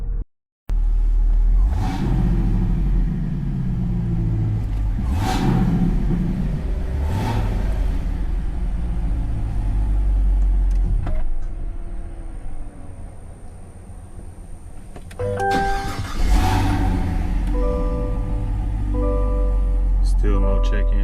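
A car engine with a Corsa cat-back exhaust idles and revs in a steady low rumble, with a few sharper bursts, while a person talks over it nearby.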